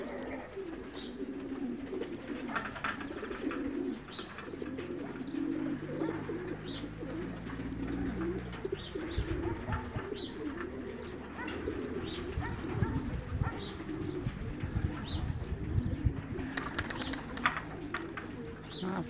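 Racing pigeons coo on a roof, low throaty calls repeating and overlapping close by against faint outdoor background and a few light chirps, with no talk.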